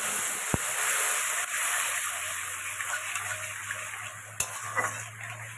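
Black cumin and ground spices hit a very hot kadai with a loud, crackling sizzle that slowly settles, broken by a sharp clink and a few stirring scrapes toward the end.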